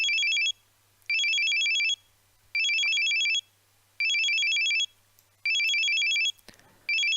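An incoming call rings on a phone in the video game Steins;Gate 0: bright electronic trill bursts repeat in a steady on-off pattern, five full rings with short silent gaps, loud and alone.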